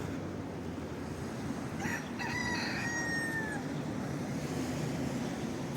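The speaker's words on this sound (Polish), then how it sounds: "tu są bez kitu jakieś kurki i koguty" Rooster crowing once at middle distance among chickens at a makeshift coop on a rubbish dump in Torrevieja, Spain, the single call rising clearly over a steady outdoor background hiss.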